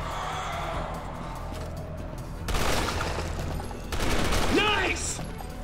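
Gunfire at gas canisters in Resident Evil 6, bursts of rapid shots and heavier blasts in two loud surges, with a rising mechanical whine near the end.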